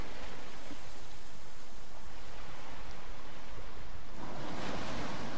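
Ocean waves in a Star Wars Battlefront 2 mod, a steady broadband wash of surf that swells louder near the end, continuous and unbroken with no voices.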